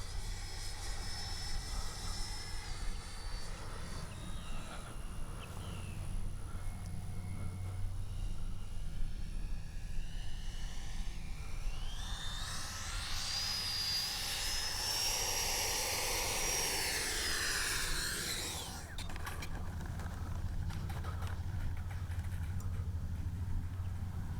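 Czech JAS-39 RC jet with a 70mm ducted fan flying at high alpha, a sustained whining jet roar that swells and sweeps in pitch as it passes nearer, then eases back to a steady drone.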